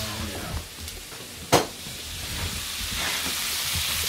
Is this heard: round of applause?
no